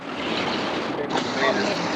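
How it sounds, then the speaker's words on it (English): Water gushes out in a steady, close rushing wash that holds an even level for the whole stretch, with no clear talk over it. "Now here's water coming out."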